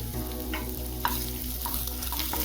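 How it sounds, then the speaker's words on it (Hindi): Finely chopped garlic and ginger fry in hot oil in a pan, giving a steady, close sizzle with occasional spatula scrapes and no talk. "चलिए थोड़ी सी इसे भून लेते हैं।"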